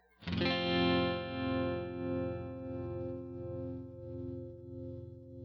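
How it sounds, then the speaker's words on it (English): A sustained, harmonically rich guitar tone through a Mobius pedal's pattern tremolo in sine waveform, with a smooth, regular pulsing swell in volume, steady and close, with no talking. "And the pattern trem in sine wave form."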